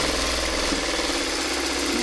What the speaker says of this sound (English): is I'm going to do the stay stitching first.